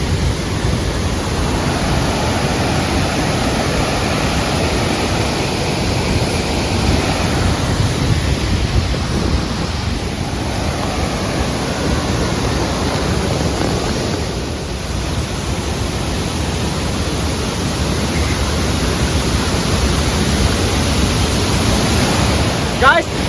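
Kothapalli waterfalls near Paderu give off a broad, continuous rushing roar of falling water, loud and close, with some wind buffeting the microphone throughout.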